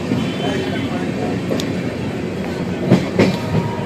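A passenger train rumbles along steadily with a low, continuous roar and faint rhythmic clatter of wheels, with people talking nearby over the noise.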